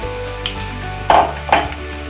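Besan dahi bara fritters fry in a little oil in a pan, a close, continuous sizzle and crackle with a low hum underneath and two brief louder spatters or utensil touches.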